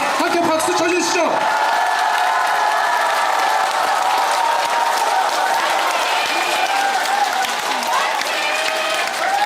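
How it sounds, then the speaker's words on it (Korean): Sustained applause from a gathered audience at a Korean political talk event, dense steady clapping filling the room for the whole stretch, with a few brief cheers and voices near the start. "함께 박수 쳐주시죠."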